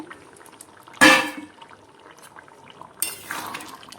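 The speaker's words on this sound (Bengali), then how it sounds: "এবার বড়ি মাছ আর ওই যে মাছের তেল ছিল ওগুলো দিয়ে দিচ্ছি" Lentil dumplings, fish and fish oil dropped into a hot cooking pan give a sudden loud splash and sizzle, then a second, softer hiss of frying a couple of seconds later in a quiet kitchen.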